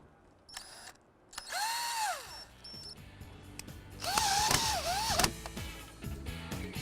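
A power drill drives screws into a Jeep Wrangler top bow bracket in two close whining bursts that rise and fall in pitch, mixed with ratcheting clicks and handling knocks.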